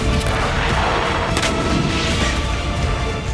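Explosions and artillery fire rumble through the war-ravaged city of Bakhmut, a dense, continuous roar of blasts and crashes with a sharper burst near the middle, loud and unbroken throughout.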